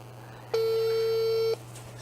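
A telephone line tone during a call that rings unanswered: one steady electronic beep holding for about a second over a low constant hum, then cutting off sharply, clear and alone.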